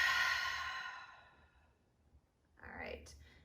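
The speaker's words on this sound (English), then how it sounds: "Take a big breath in, let it out." A slow, deep yoga breath: a long airy exhale fading out over a couple of seconds, then a short hiss of a fresh inhale, close and soft, with no talking.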